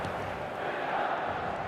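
Stadium crowd in the eFootball 2025 video game calling out in a steady, dense wash of massed voices, a broad continuous roar that swells slightly midway, with no distinct individual words.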